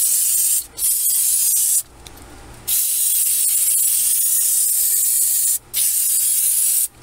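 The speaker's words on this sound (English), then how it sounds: "take some of this CRC electronic cleaner and clean spray down all those contacts" Several long bursts of CRC electronic cleaner aerosol spray hiss loudly up close onto the contacts of a 2018 GMC Sierra fuse block, broken by short pauses between sprays.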